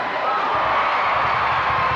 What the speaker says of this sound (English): the crowd counts them off